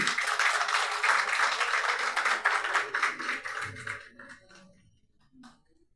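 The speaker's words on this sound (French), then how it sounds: "On applaudit, s'il vous plaît, mesdames, messieurs." An audience at an official installation ceremony for a new director general in Haiti applauds, dense steady clapping that thins out and fades after about four seconds, ending in scattered claps.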